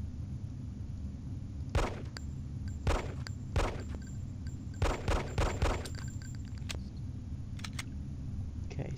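Pistol fire from an AMT Hardballer in Hitman: Codename 47, about a dozen sharp cracks in irregular single shots and short pairs. They sound fairly close and punch above a steady low hum, with no talking.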